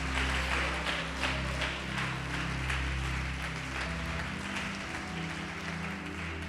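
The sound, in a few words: applause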